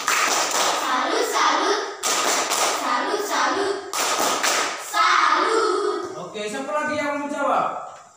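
Children in a classroom perform a tepuk salut clapping cheer, rhythmic patterned claps and thumps mixed with young voices chanting along, close and lively before the voices take over near the end.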